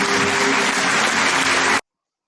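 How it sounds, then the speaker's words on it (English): An audience at a hypnotist's wedding show bursts into loud, dense applause that carries steadily for nearly two seconds, then cuts off abruptly. "Give them a round of applause,"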